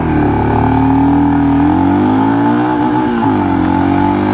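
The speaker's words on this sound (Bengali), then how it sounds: "এবার দেখুন এর যে অ্যাক্সেলারেশন টেস্ট, চলুন সেটা করে নিই" A 2025 Royal Enfield Scram 440 single-cylinder motorcycle pulls hard in an acceleration run, its close, loud engine note climbing in pitch, dipping at a gear change, then rising again, with no talk.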